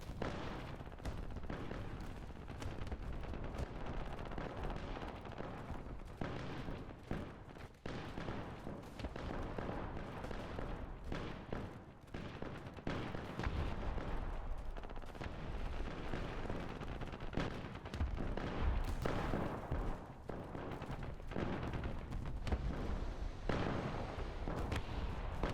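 A 30mm cannon fires repeatedly in War Thunder during a ground battle, a long stretch of heavy booming shots and explosions that come in uneven bursts over a dense, roaring battle background.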